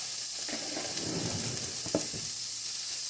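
Tofu fried rice sizzles in a hot pan, a close, steady crackling hiss with a few stirring scrapes and soft knocks mixed in, continuous and without speech.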